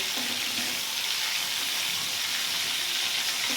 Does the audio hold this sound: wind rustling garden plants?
no